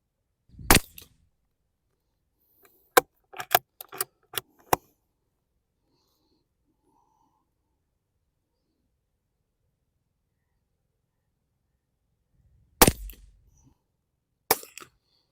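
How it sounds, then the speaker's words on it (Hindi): Rifle shots are fired while zeroing a scope: a few sharp, loud cracks spread out, with lighter clicks between them. A long silent gap comes before two more reports near the end. "अब हम यहीं पे 2 फायर और करेंगे, 3 फायर का एक ग्रुप बनाएंगे।"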